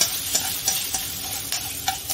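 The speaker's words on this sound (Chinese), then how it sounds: "放嗰啲洋葱丝落去， 炒至佢干干地身咁就得噶啦吓" Onion strips stir-fry in a wok for fried rice noodles, a loud bright sizzle carrying a quick regular rhythm of spatula scrapes, close and continuous throughout.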